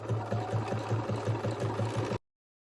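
A sewing machine works through applique stitches with a rapid, even, rhythmic chatter, close and steady for about two seconds before stopping abruptly.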